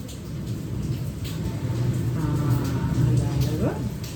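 Low thunder rumbles beneath a steady wash of rain, with a voice speaking faintly in the background.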